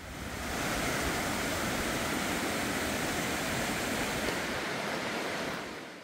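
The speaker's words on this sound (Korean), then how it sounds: "산은 더 점점 깊어지고 계곡 물소리도 더욱 커집니다." A mountain valley stream roars steadily and loudly, a continuous broadband flow like water tumbling over rocks, fading briefly at the end.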